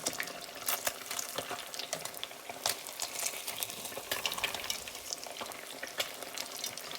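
Battered fish crackles steadily in hot oil, a bright, continuous sizzle with frequent pops and spits, close and fairly quiet, with no voices.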